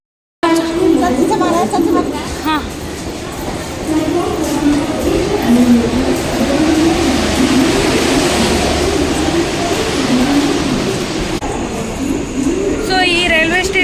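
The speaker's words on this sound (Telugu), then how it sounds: "లోకల్ ట్రైన్స్ ఇవి." Mumbai local train at a railway station, a steady loud rumble of the train running through the whole stretch with a faint high squeal near the end and no speech heard.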